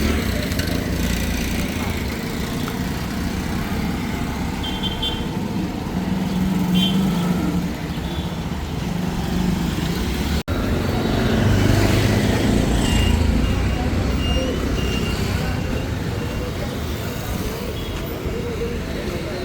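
Dense road traffic at a busy junction in Jaffna, with a steady roar of engines from cars, motorcycles and buses, continuous and fairly loud throughout.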